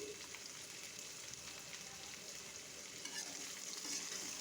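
Turmeric, chili and panch phoron are stirred through a little oil with raw mango for a sweet pickle, making a soft, steady frying sizzle with faint scraping throughout, quiet and without talk.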